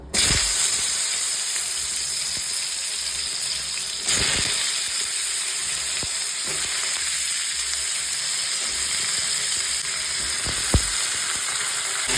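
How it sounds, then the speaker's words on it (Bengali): Steady sizzling of vegetables frying in hot oil, a continuous crackling hiss with a few sharper pops and stirring clatters. "হালকা লবণ দিয়ে আমি সবজিগুলোকে ভেজে নেব।"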